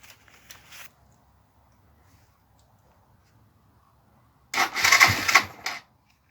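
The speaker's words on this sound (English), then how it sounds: "Just going to clean it with a toothbrush." A toothbrush scrubs a carbon-fouled spark plug from a Suzuki GN 125 motorcycle: a brief, close, bristly rasp near the start, quiet in between, then a louder second burst of brisk scrubbing.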